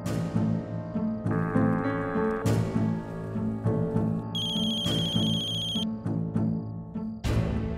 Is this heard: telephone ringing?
yes